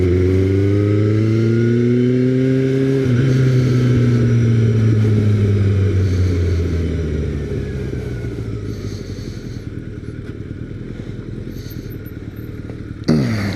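A new rider's motorcycle engine drones loud and close, pitch sliding up and down with revs, then sagging into a low rough rumble as it nearly stalls, with a brief knock at the end.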